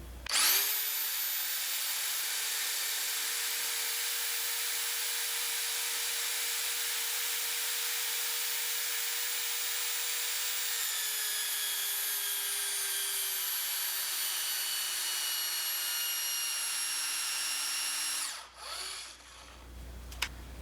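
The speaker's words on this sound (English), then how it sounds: "when you pull the trigger, you want to hold that trigger until the tool stops on its own" A power tool tightens a 1-inch diameter bolt nut in one sustained, loud whine that runs steadily for about eighteen seconds, dips slightly in pitch partway through, then cuts off abruptly as the tool stops on its own.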